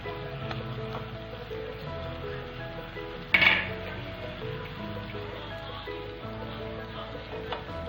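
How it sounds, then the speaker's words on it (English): Ginger, garlic and green chili paste goes into a pan of frying pitla base, with a soft sizzle, a sharp metallic clink of a spoon on the pan, and light scraping around it. "Now I will add the ginger, garlic and green chili paste."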